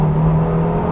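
A KTM X-BOW GT-XR engine drones steadily under full throttle from inside the car, a brief, loud, constant note with no speech.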